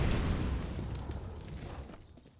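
An incendiary grenade in CS:GO on the Inferno map bursts with a loud whooshing roar that slowly fades away, with no talk over it.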